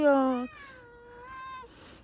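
A cat meowing at home, two drawn-out tonal meows in a row, loud and close, with little else around them.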